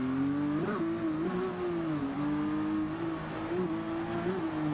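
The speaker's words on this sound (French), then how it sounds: "Tenter un wheeling sur le trottoir." Motorcycle engine in the racing game Ride 2 during a wheelie attempt on a sidewalk, a steady close mechanical drone with brief revving swells.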